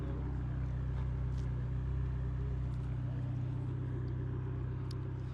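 An Aston Martin supercar idles with a deep, steady, rumbling drone, close and continuous, low growl dominating and no clear change in revs.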